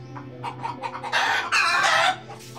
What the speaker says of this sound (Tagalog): nangingitlog yung mga manok